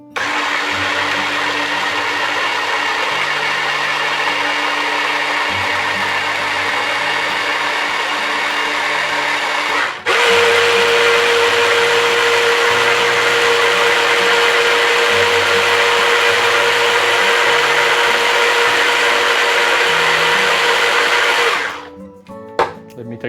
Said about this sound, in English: probably pour it over to my heavy duty blender